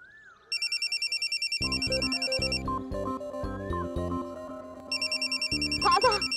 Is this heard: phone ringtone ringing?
yes